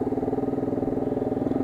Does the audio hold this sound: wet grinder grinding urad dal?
no